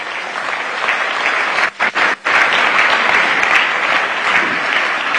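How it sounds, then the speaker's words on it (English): Sustained loud applause from a large audience at a G20 investor conference in Berlin, steady and dense for about five seconds with a couple of brief dips near the middle, no talking. "this is an round of applause for the message we've received today"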